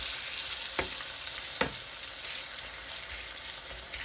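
Chicken frying and sizzling in a pan for a Chettinad-style chicken curry, a steady broadband hiss with two sharp scraping stirs early on and softer stirring afterward.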